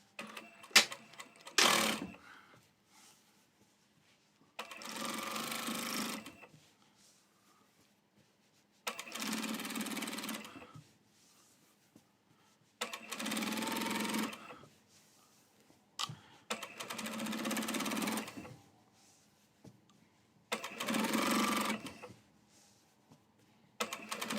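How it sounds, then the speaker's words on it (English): A sewing machine top-stitching fabric on a sleeve runs in about six separate bursts of roughly two seconds each, with a steady close whir and quiet pauses between them. "do the top stitch"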